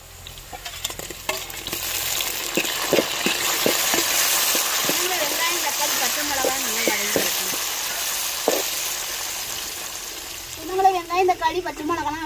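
Onions and green chilies sauté in hot oil for a dried-fish curry, giving a steady close sizzle broken by repeated spoon stirs and scrapes. A voice speaks briefly near the end.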